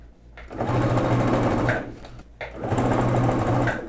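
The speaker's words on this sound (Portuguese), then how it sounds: "costurar aqui no decote com um centímetro de margem de costura com retrocesso no início" A sewing machine stitches the neckline of a basic adjustable dress with a one-centimetre seam allowance, backstitching at the start. It runs in two close, loud, steady bursts separated by a short pause, with no voices.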